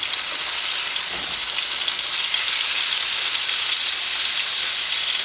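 Fish frying in a pan produces a loud, even, hissing sizzle that holds steady throughout, close up and with no one speaking.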